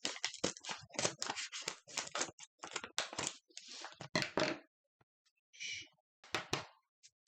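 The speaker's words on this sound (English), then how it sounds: "I'm gonna cheat and use scissors." Rapid crisp snipping of scissors in quick bursts, several cuts in a row with short pauses, close and fairly loud.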